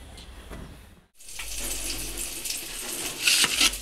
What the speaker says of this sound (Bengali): এই যে বিকি ও জামা কাপড় ধুয়ে দিচ্ছে